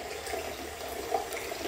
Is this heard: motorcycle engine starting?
no